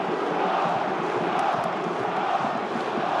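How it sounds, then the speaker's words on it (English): Toulon home fans roaring in a rugby stadium during a Top 14 match against Section Paloise: a dense, steady wall of crowd noise, loud and continuous throughout. "Toulon crowd have woken up."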